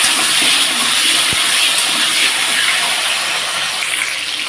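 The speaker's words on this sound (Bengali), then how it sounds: "হালকা লবণ দিয়ে আলুটাকে ভেজে নেব।" Potatoes fry in hot oil with a little salt, giving a steady, loud, close-up hiss that holds evenly throughout with no talking.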